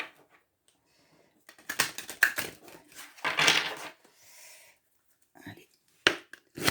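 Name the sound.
shuffling tarot cards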